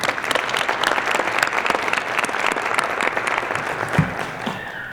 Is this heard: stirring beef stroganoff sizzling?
no